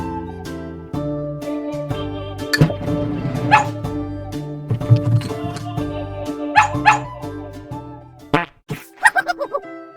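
Cartoon-style dog barks and yips from a children's animal sounds game app play over steady background music, several short loud bursts clustered toward the end.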